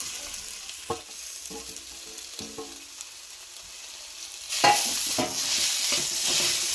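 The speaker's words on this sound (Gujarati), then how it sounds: "ત્યાં લગી આપણે આદુને આ રીતે હલાવવાનું જ છે" Ginger and mawa are stirred and roasted in a pan, giving a steady sizzle with a few scraping strokes of the spoon; the frying grows louder and brighter partway through.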